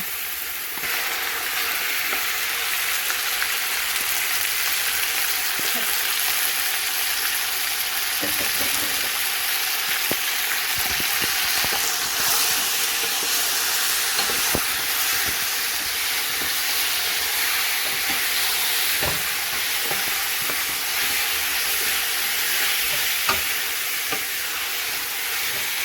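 Chopped garlic with green chillies and ginger fries in hot oil for a Chinese-style chicken and black bean sauce, sizzling steadily and close up, with occasional stirring clicks and no talking.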